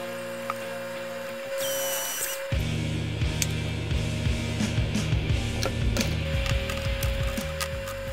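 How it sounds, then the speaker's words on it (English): A drill boring holes into 2x4 scrap wood to seat casters, close and fairly loud, with whining motor bursts, grinding bite into the wood and shifting speeds over several seconds. "After drilling the holes for the casters to sit in the 2x4s"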